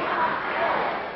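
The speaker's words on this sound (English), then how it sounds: "Crowd chanting, "We want Billy."" A wrestling crowd chants in unison for Billy Jack Haynes at a bout against Kendo Nagasaki, a steady roar of many voices filling the arena, with a commentator talking over it.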